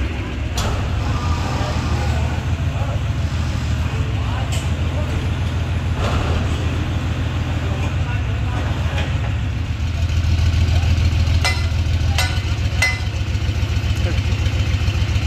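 Hino 8/50 diesel engine on a Vietnamese trawler boat running on test with a newly fitted 2.8 m propeller, a loud steady low throbbing drone with rhythmic pulsing, close by, with a few clicks and knocks on top.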